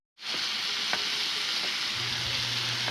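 Meat sizzles steadily in a hot pan, a dense continuous crackle with a few faint clinks of utensils over it.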